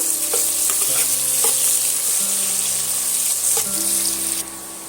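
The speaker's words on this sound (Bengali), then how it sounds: "দিয়ে আমি পেঁয়াজটা সুন্দরভাবে লাল লাল করে ভাজা করে দেবো" Chopped onion fries in oil for a dum aloo dish, a loud continuous sizzle with stirring scrapes and faint background tones, dropping slightly in level just before the end.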